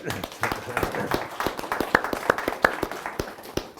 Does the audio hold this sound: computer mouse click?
no